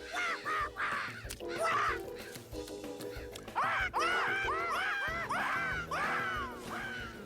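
Cartoon purple birds eating fruit and strawberries give repeated squawking, cawing cries in bursts, close and loud over soft background music.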